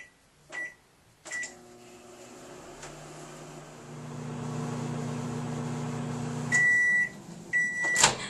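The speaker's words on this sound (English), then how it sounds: "Set your microwave to low for 15 seconds." A microwave oven set to low power for melting chocolate chips: button beeps, then the door shuts and the oven hums steadily for several seconds, ending in a sharp series of beeps, close and clear.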